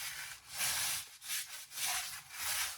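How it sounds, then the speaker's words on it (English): Brake rotor surface being wiped clean with an acetone-soaked rag, giving repeated soft rubbing swishes in steady back-and-forth strokes, close and fairly quiet with no talking. "I'm gonna take some acetone and clean off the surface."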